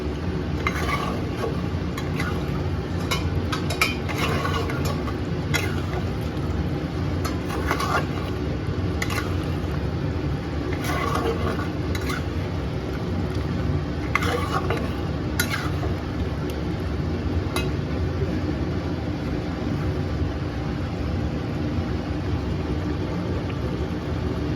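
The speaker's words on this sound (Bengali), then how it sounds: "সেই জলটাকে দিয়েই আমি মাংসটাকে ভালো করে কষাবো।" Mutton being stirred and braised in a pot with a little stock water, metal utensils clinking and scraping against the pot in irregular bursts over a steady low cooking rumble, no talking.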